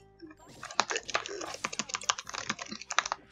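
Rapid clattering of PC keyboard keys during a Skullgirls match, irregular bursts of close clicks over game sounds and some voice.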